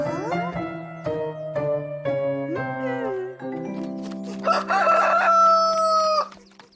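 In an animated cartoon, a rooster crows and chickens cluck, with a run of short clucks followed by a long, loud crow.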